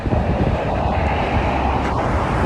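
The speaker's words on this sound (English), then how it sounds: "this is a nice gust. This will dry me off." A strong, unbroken gust of outdoor wind on a July day, a loud, low roar buffeting close on the microphone with no let-up and no voices.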